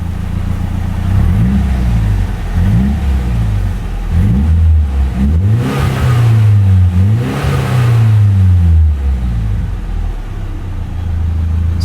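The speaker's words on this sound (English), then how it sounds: "Let's give it a rev." A Mazda RX-7 engine revs up several times in loud, rising bursts, dropping back to a rumbling idle between each push of the throttle.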